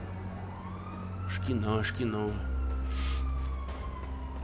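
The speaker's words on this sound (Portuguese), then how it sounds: "É uma ambulância, passou lá embaixo, mano" Ambulance siren in GTA V passing somewhere below, a loud rising and falling wail that swells then fades while a person speaks over it.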